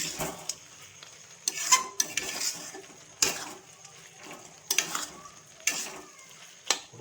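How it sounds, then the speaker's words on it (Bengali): A spoon stirs boiled peas and potatoes into a thick meat ghugni gravy in a pot, with repeated scraping strokes and clinks against the metal over a soft sizzle. No speech is heard. "এবার আমি সিদ্ধ করা মটর আর আলু দিয়ে দেবো।"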